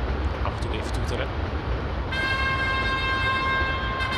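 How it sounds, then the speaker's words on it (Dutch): Sustained electronic train horn of an NS DDZ intercity double-decker in Train Simulator 2022, sounding steadily for about two seconds over rolling rail noise near an unguarded level crossing between Zutphen and Zwolle. "Af en toe even toeteren."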